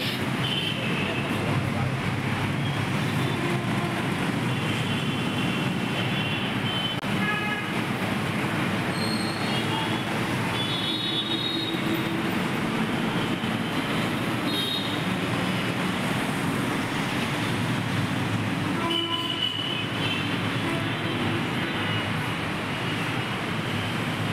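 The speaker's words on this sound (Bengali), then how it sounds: "মেট্রো, উপর দিয়ে মেট্রো চলে।" An overhead metro train runs past continuously, filling the scene with a loud, steady rumble of rolling wheels and brief metallic squeals that persists throughout.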